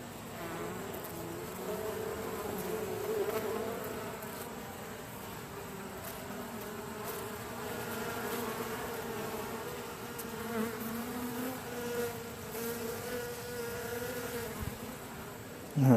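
Honey bees buzz continuously at close range during a midsummer hive inspection, a dense, even drone with no talking.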